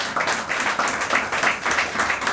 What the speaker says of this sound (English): could you just clap for these brothers?